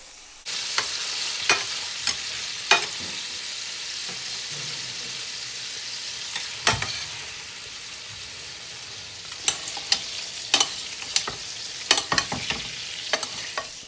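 Trout fillets sizzle steadily in a hot pan for Trout Meunière, a constant close frying hiss broken by occasional sharp pops and utensil taps.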